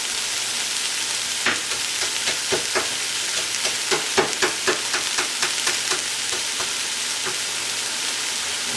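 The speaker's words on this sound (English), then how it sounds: "In the oil. And I'm going to first saute this part for 3 to 5 minutes." Sliced leeks sauté in hot oil for a jackfruit torta. A steady sizzle hisses throughout, and sharp, irregular clicks and scrapes from stirring stand out above it. The sound is close, with no talking.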